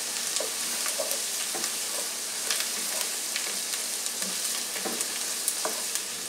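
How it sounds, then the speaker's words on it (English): Vegetables sautéing in a pan on the stove for crawfish étouffée, a steady close sizzle and frying crackle with occasional stirring clinks, alone without talk. "I like to saute my vegetables a lot"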